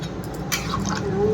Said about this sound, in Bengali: এই যে মশলার জলটা দিয়ে দিচ্ছি।